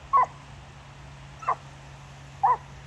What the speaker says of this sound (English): There is dogs here.